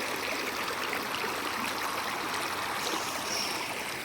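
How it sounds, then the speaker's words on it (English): River water in Oregon flows steadily and fairly close, a continuous broadband rushing and trickling with no pauses and no voices over it. "I'm at the river."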